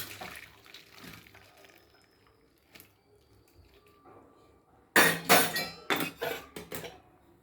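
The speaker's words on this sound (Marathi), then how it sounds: "आता चाळणीमध्ये नूडल्स गाळून घेऊ." Boiled noodles are drained through a strainer, with faint kitchen rustling followed by a sudden burst of splashing water and clattering metal that comes in several quick surges near the end.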